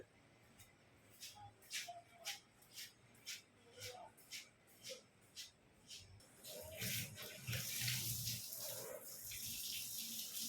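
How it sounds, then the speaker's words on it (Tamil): A hose spray starts partway through, a broad steady hiss of water striking a car during a wash, after a series of rhythmic scraping and shuffling sounds. "இப்போ நான் வந்து வண்டிக்கு வந்து தண்ணி அடிக்க போகிறேன்"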